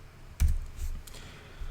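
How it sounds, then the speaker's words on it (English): Numbers are typed on a computer keyboard, producing a few soft, close key taps with a firmer thump among them, heard alone in a quiet room. "if I just start typing in some numbers here"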